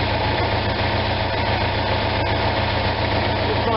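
An Onan RV generator engine runs at a raised speed before dropping to idle, giving a loud, steady, unbroken mechanical drone close by.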